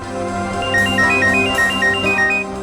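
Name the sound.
phone ringtone ringing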